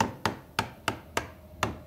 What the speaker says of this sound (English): Better nail them down.